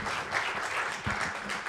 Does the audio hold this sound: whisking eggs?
no